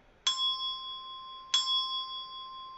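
A clear bell rings twice, each strike sharp and bright with a long, even ringing decay, spaced about a second apart in a quiet room.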